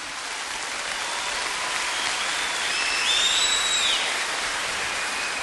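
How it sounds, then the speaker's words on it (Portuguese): Applause from a church audience at a talk by a Catholic priest, heard as a dense, steady wash of many hands that swells slightly in the middle and carries on without pause. "vou aplaudir"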